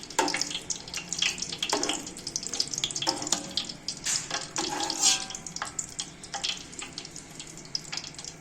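Edible gum (gond) sizzles and puffs as it fries in hot fat in a pan while making halwa, a continuous crackling hiss with irregular bursts of louder spattering.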